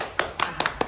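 Hand claps in a village comedy scene, a few sharp close claps falling in uneven pairs across a brief moment, loud and distinct with no talk over them.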